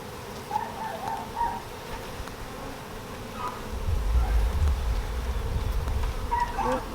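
Honey bees buzzing around a Flow Hive frame: a soft, continuous hum with individual bees droning past up close, swelling louder toward the end.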